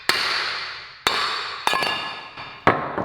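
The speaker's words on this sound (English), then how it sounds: "We can literally just kind of hammer it like that" Four loud metallic hammer strikes on a wheel bearing being hammered out of a 6.7 Cummins truck, each hit leaving a bright, slowly fading clang.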